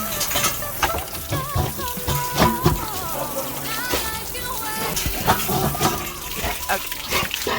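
Water splashes and sprays over rescued pit bulls being scrubbed, an uneven run of close splatters and drips, with people talking over it and animal sounds mixed in.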